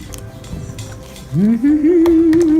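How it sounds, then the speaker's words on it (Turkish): Toy kitchen spoons and dishes from a children's play kitchen set clink and rattle as they are washed, with light clatters at first, then a voice singing a sustained tune over the clinks. "kaşıkları da yıkayayım"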